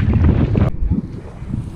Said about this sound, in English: It's very windy, so I don't know if you can hear me.